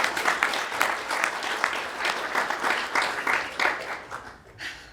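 Applause from an audience at a college talk on the vice presidency, a few seconds of moderately loud, fairly even clapping that thins out toward the end.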